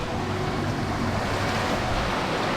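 Water rushes steadily down a brook in a mountain valley of the Cape Breton backcountry in Nova Scotia, a continuous broadband wash with no pauses.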